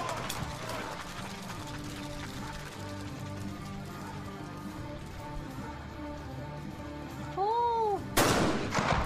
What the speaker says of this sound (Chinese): 这应该是这个选手们的第13枪